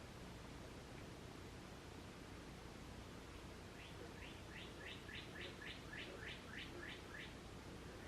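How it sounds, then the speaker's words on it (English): A bird sings a rapid series of short, high chirps from a distance, rising in the second half over steady outdoor background hiss. "Can you hear that bird in the background?"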